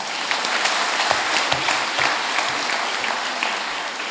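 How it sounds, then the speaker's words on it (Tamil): Audience applause at a women's empowerment speech event, dense steady clapping from a crowd with occasional sharper claps standing out, sustained at even loudness throughout. "கைத்தட்டுங்க"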